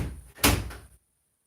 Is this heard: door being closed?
yes